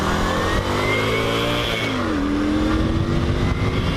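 A 2003 Yamaha XV250 Virago motorcycle pulls away, its engine note climbing steadily through the gears with a close, continuous drone and rising pitch, no voices over it.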